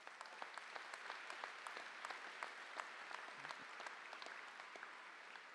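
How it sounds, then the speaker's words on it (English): A commencement audience gives a round of applause for veterans, steady crowd clapping heard from a distance at low volume, even and sustained throughout with scattered sharper claps. "Round of applause for our veterans."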